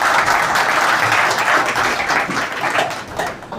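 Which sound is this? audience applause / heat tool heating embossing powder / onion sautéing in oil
audience applause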